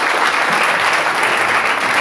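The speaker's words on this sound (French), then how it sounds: "Applaudissons pour le frère Moïse." A church congregation applauds steadily and loudly, a dense, unbroken wash of many hands clapping with no break for the full two seconds.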